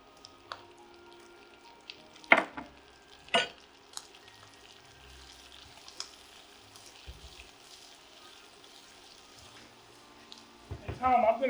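Onions dumped into a pot of New England clam chowder on the stove: a couple of sharp clattering splashes, then soft sizzling and stirring noises, close but quiet, with faint voices nearby.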